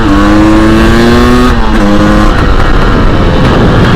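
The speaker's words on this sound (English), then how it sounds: "that power valve opens and it really starts to rev up" A KTM 300 TPI two-stroke dual sport motorcycle engine, loud and close, revs with a rising whine that drops and climbs again over a rough, continuous roar, with no voices over it.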